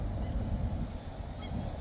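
A goose-like bird gives a couple of short honks over a loud, rumbling outdoor background in Bergen, Norway.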